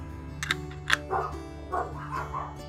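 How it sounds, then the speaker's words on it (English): Dogs bark excitedly outdoors at some distance, a few sharp yelps followed by rougher barks in an irregular burst over a low steady hum. "Hear my dogs? They're going crazy out there."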